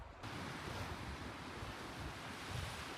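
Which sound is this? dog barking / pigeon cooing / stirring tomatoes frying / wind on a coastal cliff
wind on a coastal cliff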